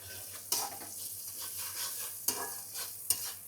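Onions fry in a pan for a koi fish curry (kala bhuna), a soft steady sizzle broken by a few sharp scrapes and clinks of stirring.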